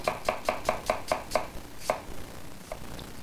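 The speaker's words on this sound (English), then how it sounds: "and then into thin slices. Once all the apples are sliced" Knife slicing quartered apples into thin slices on a board, about eight crisp, evenly spaced cuts in a steady rhythm, then a pause and two slower cuts, close and clear with no talking.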